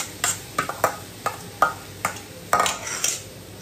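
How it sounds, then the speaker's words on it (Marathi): A spoon clinks and taps against a pan as mixer-ground vegetable paste goes into fried onion and tomato for pav bhaji. Several sharp metallic knocks come at irregular intervals with quiet scraping between them. "त्यात आपण टाकणार आहोत मिक्सरमधून बारीक केलेली ही भाजी."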